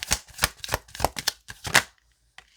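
Crystal oracle cards being shuffled by hand close up, giving a quick series of crisp riffling flutters and soft slaps that ends in near silence with one faint tap.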